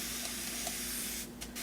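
Steady hiss of a spray bottle misting hair runs continuously for over a second, then a few brief gaps and short bursts near the end, close and fairly quiet.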